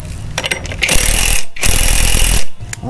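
A power tool tightens parts on a Honda Click 125i scooter while 14-gram flyballs are fitted, giving two long, loud, rattling bursts close up with a short gap between them.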